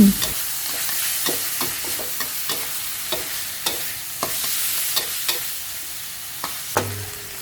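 Sunflower sprouts stir-fried with minced pork, fresh shiitake mushrooms and oyster sauce in a pan: a steady sizzle broken by repeated sharp spatula scrapes and clacks at an irregular, brisk rhythm, close and moderately loud.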